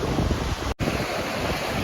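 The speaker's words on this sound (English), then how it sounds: "Very, very windy, very, very cold" Strong wind roars and buffets the microphone in a steady, heavy rush, with a brief dropout partway through.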